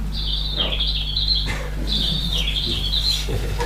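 A high, repeated bird song with warbling, falling phrases sounds over a steady low electrical hum, as recorded bird songs are played to plants, two long phrases separated by a brief pause.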